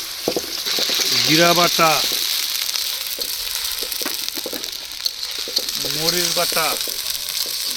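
Chopped onion sizzles steadily in hot oil for chicken keema, a continuous bright frying hiss running throughout, with a person speaking briefly twice over it.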